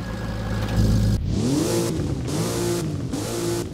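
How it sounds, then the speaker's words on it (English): A Porsche sports car engine cranks and fires up in the Roblox game Driving Empire, then revs several times in a row, loud and close, each rev rising and falling. "let's hear the startup on these two cars"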